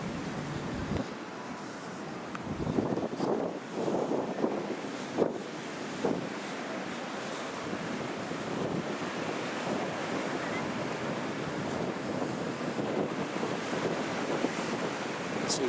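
Choppy sea waves wash and break continuously along Latchi beach in Cyprus, a steady broadband roar with gusts of wind buffeting the microphone and a few louder surges.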